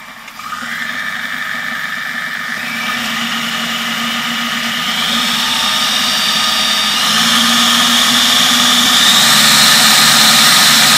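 Lidl Silvercrest Monsieur Cuisine Plus food processor motor running alone, a close, loud, steady whine that steps up in pitch and intensity as the variable speed is raised.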